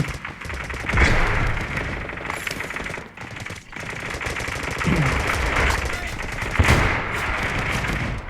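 Rapid automatic gunfire in the Delta Force video game, sustained bursts with a few heavier thumps, loud and dense, while someone talks over the shooting.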